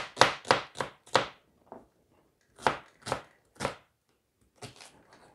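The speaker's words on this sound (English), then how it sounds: "We'll just cut it by hand." A knife chops an onion by hand on a board, sharp close strokes in two quick bursts of four, then a pause, another run of three, and a fainter trailing pair, with no talk.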